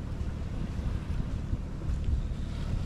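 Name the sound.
wind at sea on a sailboat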